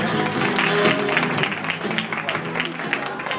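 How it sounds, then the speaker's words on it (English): Audience applause at a mock wedding for the couple, dense and steady clapping throughout with voices mixed in under it. "let's have a nice round of applause for Mr. and Mrs. Martin Scorsese"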